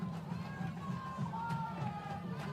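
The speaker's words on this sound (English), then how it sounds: "This crowd is raucous right now from Rubidoux High School" Raucous high school football playoff crowd at Rubidoux High School, a dense, steady roar of cheering and shouting voices filling the space continuously, loud and close with no single voice standing out.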